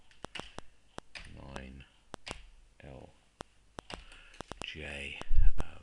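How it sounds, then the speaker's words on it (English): Someone types on a computer keyboard with a string of sharp, separate key clicks in an irregular rhythm, mixed with soft whispered speech. "Let's type the postcode in there as"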